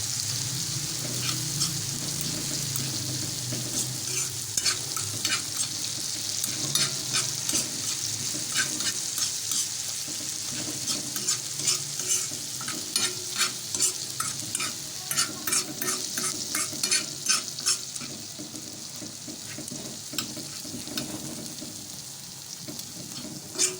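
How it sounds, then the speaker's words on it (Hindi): Spicy tawwa chutney frying in a pan over a stove flame, a continuous sizzle with repeated scraping stirs that grow more frequent toward the end. "देखिए आंच पे इसको करेंगे फ्राई।"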